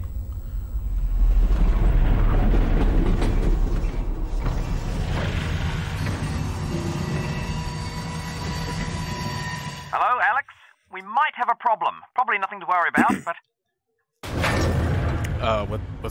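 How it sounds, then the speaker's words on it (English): A train in the video game Half-Life: Alyx rumbles loudly and steadily for about ten seconds before cutting off, followed by a stretch of speech broken by silences and a brief return of the low noise. "Did the train stop? It stopped, didn't it?"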